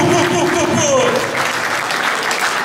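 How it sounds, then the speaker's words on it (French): An evening crowd at a Paris arts event claps in a dense, steady burst of applause, filling the whole short stretch at close range. "So, applaudissements à vous-même."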